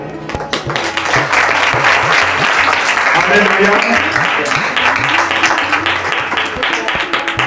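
A church congregation claps together, a loud, continuous rhythmic patter under voices and singing that fill the room.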